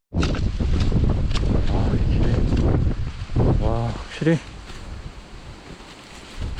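Strong wind roars and buffets the microphone near a mountain summit on an autumn hike, loud and steady for several seconds, then easing as a voice briefly speaks.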